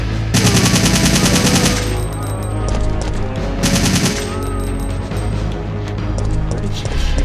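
Rapid automatic gunfire from the video game Resident Evil 3 comes in two loud, sustained bursts over a constant game background rumble and music.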